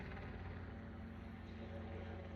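A helicopter drones faintly in the distance, a low, continuous rotor rumble that holds steady throughout.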